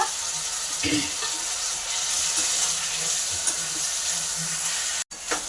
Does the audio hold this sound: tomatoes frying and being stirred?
yes